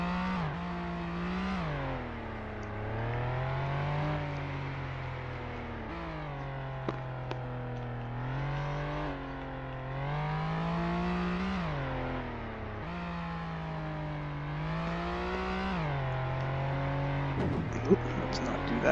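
A police car cruising a highway in the video game Flashing Lights, its engine cycling up and down through repeated gear shifts, steady and close, with a voice talking over it.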